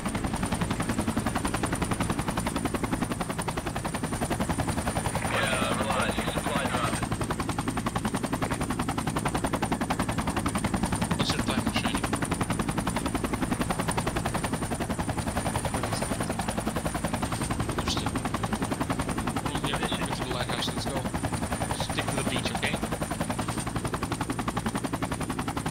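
Helicopter rotor drone with bursts of machine gun fire in the Project Reality military video game, set on the Saaremaa map, steady loud battlefield noise throughout with scattered sharp gunfire cracks.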